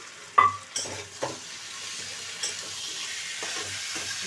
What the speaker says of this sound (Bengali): আলুটা তো একটু সেদ্ধ হবে সেই জন্য একটু কষাচ্ছি আমি